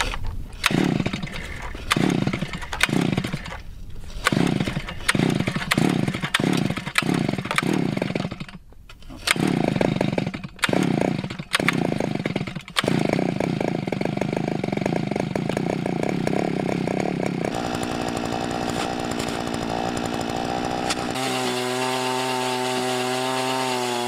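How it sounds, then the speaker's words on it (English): A gas-powered ice auger drills through lake ice while ice fishing outdoors, its engine revving in loud, uneven bursts and then settling into a steady drone. No one speaks. "Loving that gas auger."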